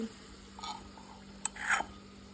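A spoon stirs spice paste into cooking vegetable curry in a pot, producing faint soft scraping and squelching with a couple of sharp metallic clinks against a quiet background.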